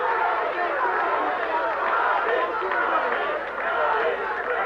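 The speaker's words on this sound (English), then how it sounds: "The crowd starts chanting, Brody, Brody, Brody, and Volkov." A 1983 St. Louis wrestling arena crowd chanting a wrestler's name, a steady roar of many voices and rhythmic chanting throughout.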